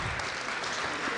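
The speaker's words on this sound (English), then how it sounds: "A round of applause." A short burst of steady, dense applause from a crowd at a Kenyan citizens' assembly, loud and continuous.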